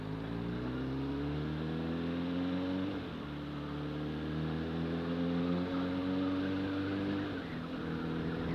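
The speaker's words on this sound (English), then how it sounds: "that was a German car undertaking me at the lights into a bus lane" A German car accelerates past at traffic lights while undertaking into a bus lane, its engine note rising steadily and dipping once as it shifts, heard over a constant in-car hum with no talk.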